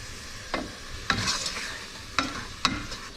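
Shrimp cook in a pan with a soft sizzle, punctuated by four sharp utensil knocks and scrapes against the pan at irregular intervals; no voices.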